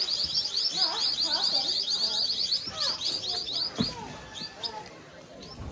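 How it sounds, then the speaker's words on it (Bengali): Birds sing among the trees of a clean village, with repeated bright chirps and short trilling calls overlapping at close to middle distance, a little quieter toward the end. "গাছের ভিতরে ভিতরে সব পাখি ডাকছে দেখো না"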